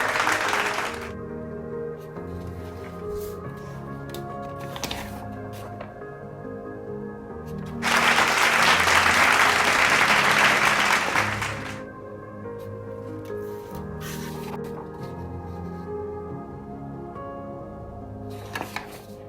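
A TED talk audience on teen stress breaks into a burst of clapping for about four seconds in a word game, rising over soft background music and then fading back to the music alone.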